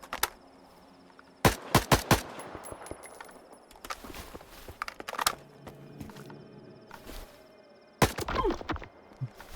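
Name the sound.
gunshots in a video game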